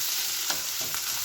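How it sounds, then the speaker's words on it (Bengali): Onions and garlic frying in a pan while chicken is being cooked, a steady close sizzle with a few soft stirring scrapes over a short stretch. "এই যে এখানে পেঁয়াজ রসুনগুলো ভাজা করছি"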